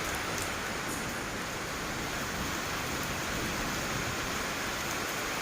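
Steady rain falls in a dense, even hiss on an outdoor shelter where an elephant is kept, continuous and fairly close, with no voices.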